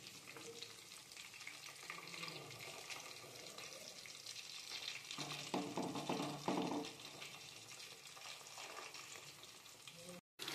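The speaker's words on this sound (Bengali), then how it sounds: "এবার মিডিয়াম ফ্লেমে এগুলো যাতে ভালোভাবে ভাজা হয়ে যায় তার জন্য রেখে দিলাম" Bombay duck (lote fish) pakoras fry in oil over a medium flame, giving a steady close sizzle throughout, with a louder bubbling burst midway as pieces are turned. No one speaks.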